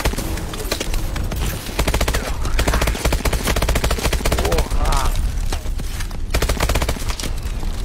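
Continuous rapid machine gun fire from a turret in a Call of Duty video game, loud, dense bursts running throughout with shouted voices mixed underneath.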